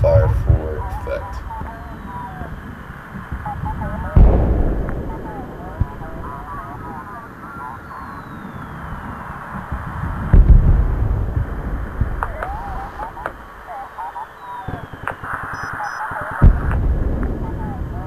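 Booming artillery fire lands in the Project Reality video game, with heavy impacts and rumbles under a droning aircraft and someone talking over it.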